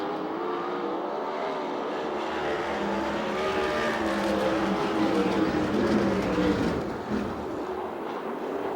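USAC/CRA sprint cars race a heat at Perris, a loud, sustained roar of several engines close by with rising and falling pitch as cars pass, a brief dip near the end before the pack noise returns.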